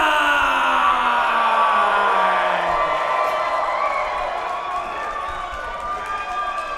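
A Duke City Championship Wrestling crowd cheers and yells for Mosh Pit Mike, a loud roar of many voices with whoops rising and fading slightly, with a low tone sliding down early on.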